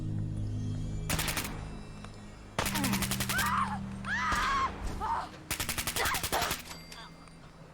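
Gunfire while shooting at targets, several loud rapid bursts of shots separated by short gaps, with brief warbling tones between them.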